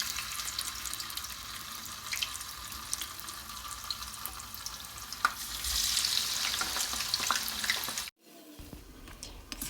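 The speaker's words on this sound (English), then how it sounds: "Deep fry tofu to the golden color" Tofu deep-frying in hot palm oil gives a steady, crackling sizzle that swells louder midway, then cuts off abruptly near the end before a quieter, faint hiss returns.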